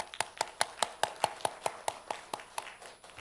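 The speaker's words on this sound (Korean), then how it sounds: "우리 청년들 박수 한번 치읍시다" A small group of young people clapping at a Friday-night church prayer meeting, about fifteen distinct, fairly even claps over three seconds, close and moderately loud with no talk over them.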